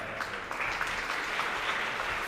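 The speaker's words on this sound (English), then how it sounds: "A round of applause, please, ladies and gentlemen." An audience at a 2024 panel discussion applauds, a dense, steady wash of clapping filling the room at close range.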